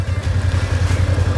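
A BMW F trail motorcycle idling in place after a short warm-up, its engine throbbing in a close, rapid low pulse that repeats evenly, loud and steady with no speech.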